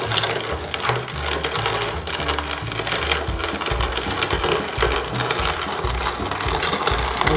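A grain mill grinds malted barley for a Redhook ESB homebrew, a steady, continuous mechanical churning and crunching with a low rumbling drone, sustained and fairly loud throughout with no talking.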